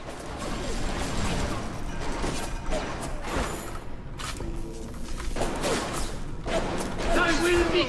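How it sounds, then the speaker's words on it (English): Gunfire in the video game Bioshock, with rattling bursts of shots mixed into dense game noise and clanks at steady loudness throughout. "What the hell's shooting me?"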